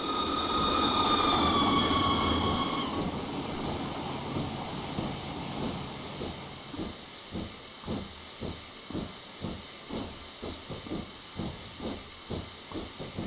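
A BR Black 5 steam locomotive in Train Simulator on the Western Lines of Scotland, first venting a loud steady hiss with a whistle-like tone, then chuffing in a regular, quickening rhythm of exhaust beats as it moves off.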